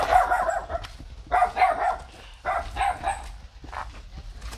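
Dogs bark close by in several loud bursts of repeated woofs, with short pauses between volleys.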